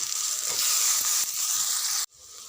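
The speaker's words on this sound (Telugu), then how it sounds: "ఉప్పులో కోసి ఉప్పులో వేసిన ఆలుగడ్డ ముక్కలు వేసి ఒక రెండు నిమిషాలు మగ్గనివ్వాలి" Salted potato pieces frying in a pan with turmeric give a loud, close, hissing sizzle that holds steady, then cuts off abruptly near the end.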